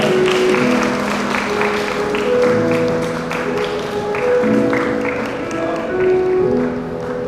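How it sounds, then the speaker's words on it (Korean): Guests at a church wedding ceremony applaud steadily for the bride and groom's parents, a dense, sustained wash of clapping under organ-like music that continues throughout. "네, 다시 한번 박수 부탁드립니다."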